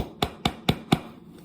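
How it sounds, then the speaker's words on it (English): A mini hammer taps a plastic drywall plug into a wall: four sharp, evenly spaced knocks, close and crisp, with no voices. "then I will use my mini hammer and hammer it in"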